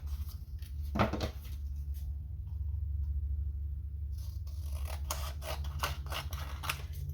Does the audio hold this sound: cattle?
no